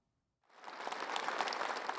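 Applause from lawmakers in a parliament chamber swells up suddenly and holds steady as a dense, moderately distant spatter of many hands.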